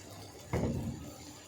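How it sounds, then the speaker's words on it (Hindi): Boiled lentils and their cooking water poured into a pot, a single short splashing gush that quickly tapers off against a quiet background. "यहाँ पे हम इसमें डालेंगे दाल जिसको हमने उबाइल किया हुआ था, और ये पानी के समेत ऐड करेंगे।"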